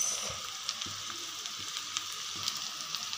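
Onions frying in a pan with salt added, a steady broadband sizzle running throughout with a few faint clicks of a spoon, no voices.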